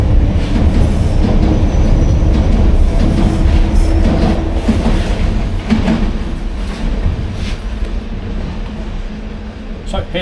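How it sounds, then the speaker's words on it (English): A London Underground Piccadilly Line train rolls in and runs with a loud, steady rumble, rhythmic wheel clatter and some metallic squeal, heard close on the platform. "So here's my train."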